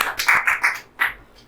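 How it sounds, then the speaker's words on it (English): Scattered clapping at an institute anniversary celebration, a handful of separate, sharp claps in an uneven rhythm, then a pause and one more, close and clear with no talking. "Big round of applause to him."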